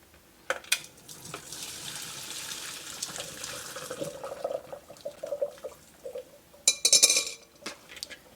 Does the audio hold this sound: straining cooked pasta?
yes